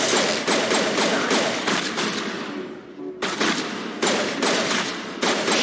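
Rapid gunfire in the video game Mass Effect, with dense bursts of automatic fire that stop for a brief gap and then resume, loud and close with heavy thuds among the shots.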